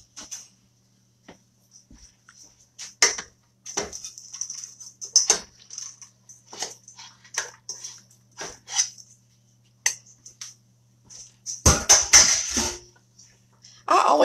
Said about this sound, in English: All right, let's pour mac in it.